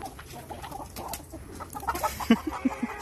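Rhode Island Red breeder chickens cluck in a series of short, rhythmic calls near the end, rising over quiet background noise.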